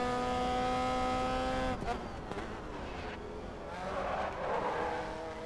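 A race car in Grid Autosport droning at high revs, then breaking into a sliding, scrabbling tyre noise through a corner, the engine note dipping and rising again, loud and steady.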